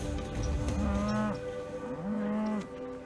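Cattle on a ranch mooing, two long, low calls close by, each rising and falling, with steady outdoor background noise.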